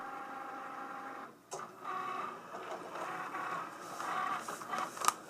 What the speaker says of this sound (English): it's cutting the vinyl, and it normally doesn't take long to go ahead and cut the vinyl, the letters into the vinyl